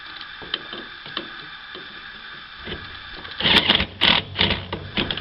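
Screws being driven and tightened while mounting a draft fan on an older HeatMaster furnace, a series of close ratcheting, clicking mechanical turns that grow louder and denser toward the end.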